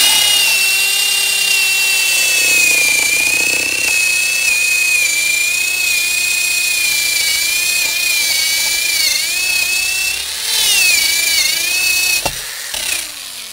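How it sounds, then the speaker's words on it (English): A power drill runs continuously while boring holes for rebar in a root cellar, a steady high-pitched whine with slight pitch wavers, loud and close, stopping briefly near the end. "I started out by drilling these holes."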